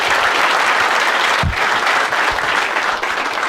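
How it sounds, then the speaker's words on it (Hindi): A comedy show crowd breaks into loud, dense applause, a continuous close roar of many hands clapping throughout. "एक बार ताली बजा सब लोग इसके लिए।"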